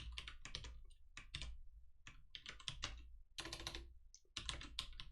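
Rapid, uneven keystrokes clatter on a computer keyboard during Python programming, close and clear, arriving in quick bursts separated by short pauses.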